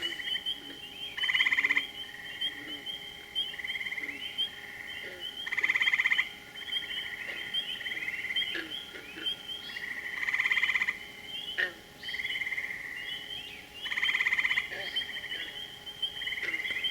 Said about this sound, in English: Three different types of frogs I'm hearing.